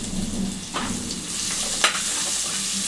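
Sliced onions with turmeric frying in a pan, a steady close sizzle running throughout with a few scraping stirs of a spoon through the pieces.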